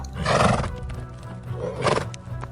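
Ridden horses give two loud, close neighs, each a rising, harsh whinny, over a steady patter of clip-clopping hooves.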